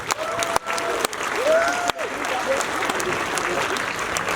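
Audience applause fills a room for a Kyrgyz comedy film team, dense and sustained clapping throughout with a few sharp bangs and a voice briefly heard under it.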